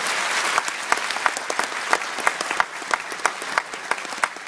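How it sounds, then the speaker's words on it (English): An audience at a citizenship ceremony in a convention centre applauds the colour party carrying the Irish tricolour: dense, steady clapping from a large crowd with sharper individual claps standing out, no talking over it. "Please give them a round of applause."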